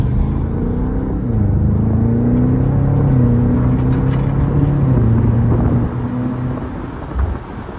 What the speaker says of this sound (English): Hear what it sounds like with the convertible top down.